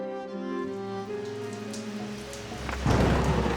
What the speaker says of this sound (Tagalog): Kasunod ng pagbuhos ng malakas na ulan.